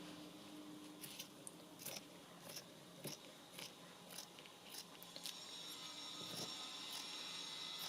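Scissors snip through paper while a ballet-themed ring-bound journal is being made: a series of close, crisp cuts at an uneven pace, fading into a soft steady hiss near the end, with no talking.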